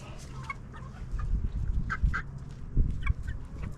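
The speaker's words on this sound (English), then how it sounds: "I love the Polish hens." Polish hens at Carmel Valley Ranch cluck in a series of short, close clucks and soft murmurs over a low rumble in the background.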